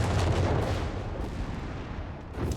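Howitzer artillery fire in Company of Heroes 3: a dense, continuous rumble of heavy booms with no gaps, loud and close throughout.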